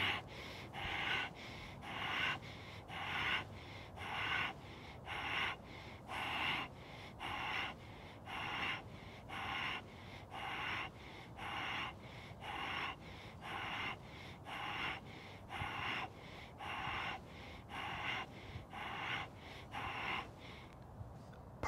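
Deep, forceful breaths in and out repeat in a steady rhythm, about twenty cycles, close and clear, during seated dynamic tension breathing exercises such as chest fly.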